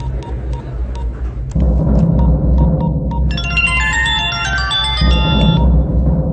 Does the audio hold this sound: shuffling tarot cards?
no